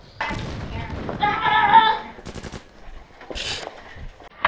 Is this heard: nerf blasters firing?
yes